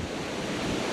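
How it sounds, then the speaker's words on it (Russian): Storm waves wash against the shore of a fishing spot as strong wind roars past the microphone in a dense, continuous rush, loud and close with no voices. "До сих пор эта буря дует."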